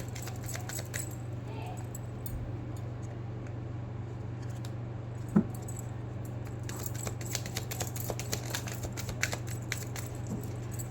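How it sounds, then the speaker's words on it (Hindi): Tarot cards being shuffled by hand, a soft continuous papery riffling and tapping close up over a steady low hum, with a few sharper clicks scattered through. "This is my last shuffle."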